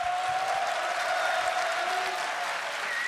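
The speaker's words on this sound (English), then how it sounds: "receiving the applause from the guys here as well" Steady applause from a crowd at the 2015 League of Legends World Championship fills the whole stretch, dense and continuous, with a faint tone running underneath.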